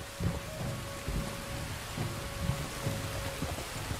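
Rain pouring steadily in the game Red Dead Redemption 2, with low rumbles of thunder rolling under the hiss at several points, no voices.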